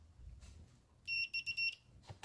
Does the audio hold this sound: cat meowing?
no